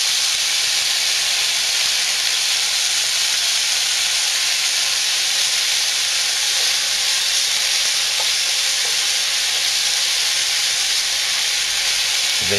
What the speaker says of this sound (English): Basically, we're gonna fry it.